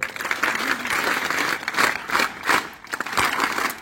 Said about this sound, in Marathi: काय टाळ्या वाजता तुम्ही जबरदस्त. एकदा परत वाजवा ना माझ्यासाठी.